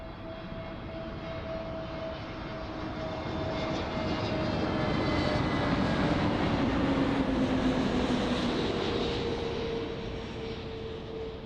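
An EasyJet airliner landing at Amsterdam airport, a broad jet roar that swells over several seconds as it passes close, with whining engine tones sliding downward before easing off.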